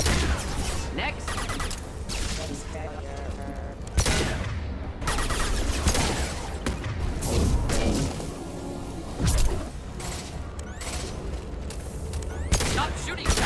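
Gunfire in the video game Mass Effect, a dense run of shots and impacts packed into a loud combat mix with whooshes and booms, continuous from start to finish.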